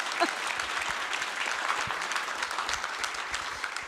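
A marriage-conference audience at a church gives a steady round of applause, dense and even throughout, with no one speaking over it.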